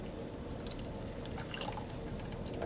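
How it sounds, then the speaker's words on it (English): Thick gravy pours steadily with soft dripping and glugging, a close, continuous wet sound with no talking. "we'll pour this in. This is our gravy."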